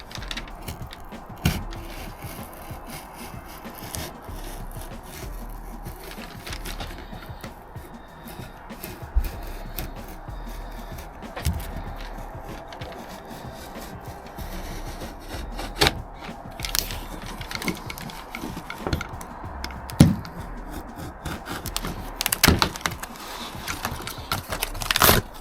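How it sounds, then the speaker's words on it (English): A sharp Stanley knife with a new carbide blade slices through Transit van back-door trim, close scraping and cutting strokes with scattered clicks and rustles over a long stretch. "And then I cut it out with a Stanley knife."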